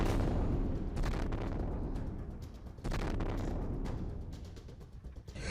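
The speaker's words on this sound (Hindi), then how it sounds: "यूक्रेन की राजधानी अचानक बम धमाकों और मिसाइलों के फटने की आवाज से दहल उठती है" Bomb and missile blasts during a Russian attack on Kyiv: dense, continuous low rumbling with several heavy booming bursts, loudest near the start, around 1 s and just before 3 s, with no voices.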